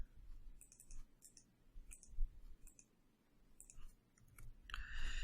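A computer mouse clicks several times in quick, irregular pairs, crisp and close over a faint background.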